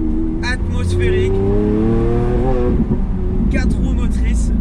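A 740-horsepower naturally aspirated four-wheel-drive Lamborghini accelerates hard in wet conditions, its engine loud and close, rising in pitch through revs with a dip and climb again, while someone talks over it.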